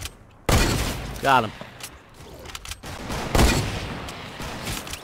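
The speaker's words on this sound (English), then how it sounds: "A lot of people shooting." Gunfire in Fortnite: a loud burst of shots followed by scattered weaker reports and a later blast, with a player's voice speaking between them.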